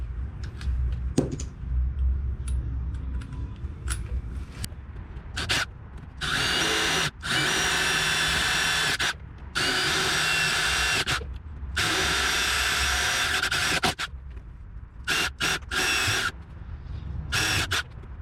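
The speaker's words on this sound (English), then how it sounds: "you want to use the 3/16 drill bit." A power drill with a 3/16-inch bit whirs in several bursts of a few seconds each while replacing a Ranger boat rod locker panel, separated by short pauses, with faint handling noises between runs.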